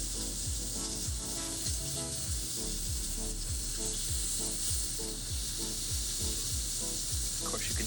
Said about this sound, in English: Of course, you can hear that sizzle in the back.